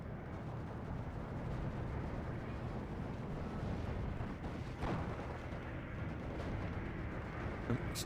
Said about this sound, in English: And the Boston bomber keeps on bombing.